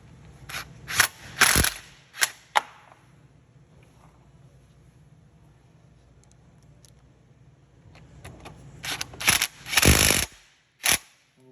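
A hand ratchet tightening bolts on the front bumper of a Venom 110cc Mini Madix gas-powered mini ATV, with bursts of rapid clicking that come and go around a quieter stretch, close and crisp.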